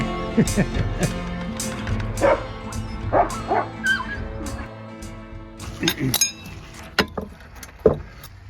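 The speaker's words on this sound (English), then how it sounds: "He's got a very rambunctious dog." A rambunctious dog outdoors at a nature preserve gives repeated sharp barks and yips with a few whimpers, close and loud in an irregular series, with occasional metallic clinks between them.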